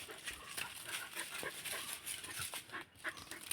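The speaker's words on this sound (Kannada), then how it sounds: "ಇವನೊಂದು ಬಿಡುತ್ತಿಲ್ಲ, ಎಲ್ಲಿ ಹತ್ತಿ ಬೊಗಳ್ತಿದ್ದಾನೆ." A dog barks somewhere around a home with cats, faint and distant, a scattered series of short yaps and bursts over several seconds with no talking.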